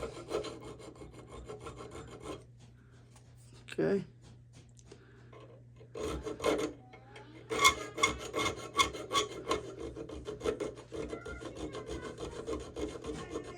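A hand file rasps against the spine of a custom knife held in a vise, with steady scraping strokes, some sharper louder passes and brief pauses, close up, and a single short spoken word.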